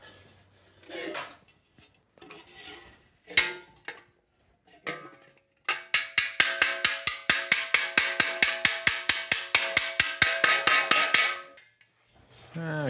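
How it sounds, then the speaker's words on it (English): Hammer blows planish a steel armor plate, first a few scattered strikes and then a fast, even run of ringing metallic hits that stops abruptly, close and loud. "You notice how it'll start out tinny, and then it'll sound solid because that face is moving down"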